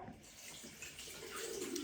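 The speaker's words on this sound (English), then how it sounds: "But with this I can run it under the water" A face cleansing device is rinsed under a running tap, and the water rushes and splashes steadily and fairly softly for the whole clip, with nothing else heard over it.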